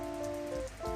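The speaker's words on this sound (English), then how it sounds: "I love the sound of the rain." Soft rainfall in a cozy Steam game makes a faint, steady patter that blends with gentle sustained music notes for a brief moment.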